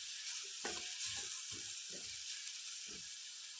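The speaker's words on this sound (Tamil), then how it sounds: "அரைச்சி வச்சுருக்க நெல்லிக்காயை போட்டோம்னா போட்டு ஒரு கலர் கரைஞ்சி போதும்." Ground gooseberry paste frying in a pan, a faint continuous sizzle with several soft spoon scrapes and stirring taps spread through it.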